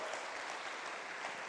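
A church congregation applauds during a service, a brief, faint, steady wash of clapping heard from a distance.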